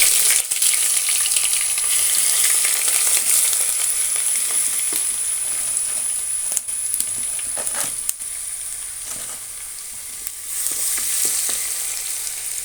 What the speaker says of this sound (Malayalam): എന്നിട്ട് നമുക്ക് ഇഞ്ചി വെളുത്തുള്ളി പേസ്റ്റ് ഇട്ട് കൊടുക്കാം.